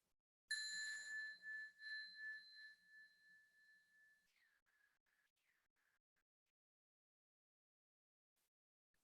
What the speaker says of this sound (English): So this bell is tuned to the second chakra.